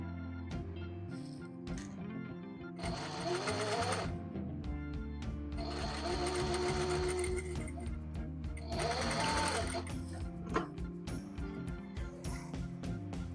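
Single needle sewing machine stitching fabric for light home trousers: repeated rapid mechanical runs of whirring stitching in several bursts, close and fairly quiet, with a steady hum between.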